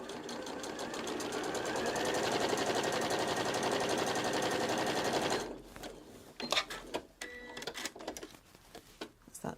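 A sewing machine runs a straight stitch along the edge of a fabric scrunchie in one fast, continuous rattling burst lasting about five seconds, close up, followed by a few soft handling clicks and quiet.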